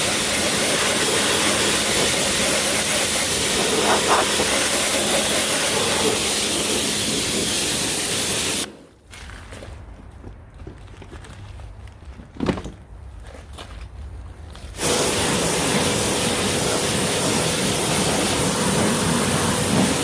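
A water spray rinses engine degreaser off a Suzuki barn-find ATV: loud steady hissing spray that cuts out for several seconds with a few knocks and clatters, then resumes just as loud.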